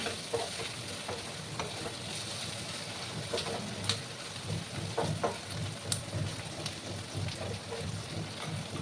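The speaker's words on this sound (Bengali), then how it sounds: "সময় নিয়ে কষিয়ে নিতে হবে" Jackfruit seeds and prawns with spices are slowly sautéed in a Bengali-style kosha. A continuous close sizzle runs under repeated spatula scrapes and stirring knocks, which grow busier and more rhythmic midway.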